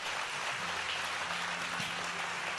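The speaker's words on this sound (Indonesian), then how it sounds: "Berikan tepuk tangan buat Tuhan" Applause from a church congregation during a sermon, a steady broadband wash of clapping throughout, with a faint sustained keyboard or organ tone underneath and no talking.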